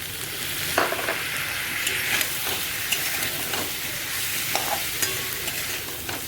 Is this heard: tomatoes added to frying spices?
yes